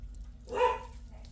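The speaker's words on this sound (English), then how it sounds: "somebody's out there making my doggy Annie a little nervous" Dog giving a single short nervous bark or yip from indoors, moderately loud and close against a quiet hum.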